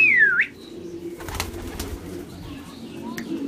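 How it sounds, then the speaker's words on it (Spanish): Pigeons inside a family racing loft in Cuba, with a sharp whistling call at the start, then low murmuring coos and shuffling underneath. "Ya tengo todas las palomas dentro de la casa."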